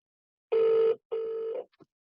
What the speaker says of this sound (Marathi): माझ्याकडून रिंग वाजतीये आणि तिकडून पिकअप झालेला आहे